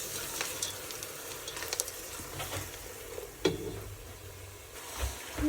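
Frozen green peas and vegetables frying in a pan, a soft steady sizzle with a few stirring clinks and knocks, fairly quiet and close.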